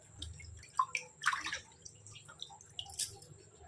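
Pieces of meat are washed by hand in water, with scattered drips, splashes and light sloshing in uneven bursts.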